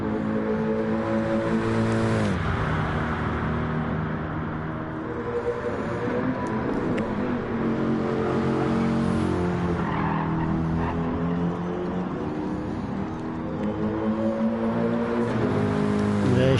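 Race car engine in a PS4 racing game, a steady droning roar with harmonic whine that shifts pitch through gear changes and a brief dip, accompanied by tire squeal, running continuously throughout.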